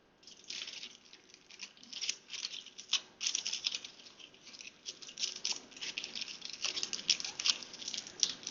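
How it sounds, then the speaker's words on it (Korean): Aluminium foil is torn off and crinkled by hand, producing a continuous crisp rustling and crackling with irregular bursts, close and moderately quiet, with no talking. "호일을 하나 더 뜯어서 똑같은 모양을 한 번 더 만들어 줄게요"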